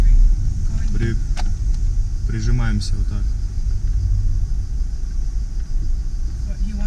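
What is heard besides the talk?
bus passing on narrow road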